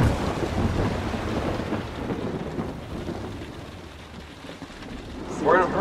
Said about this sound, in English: We're in a hurricane right now.